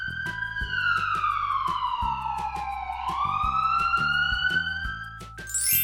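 An ambulance siren wails loudly and continuously, its two-tone pitch sliding down and then back up across the whole stretch, with a vehicle engine rumbling faintly beneath.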